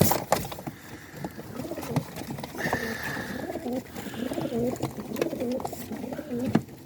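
A large flock of pigeons gives repeated soft, rolling coos close by, along with scattered clicks and flutters in the background.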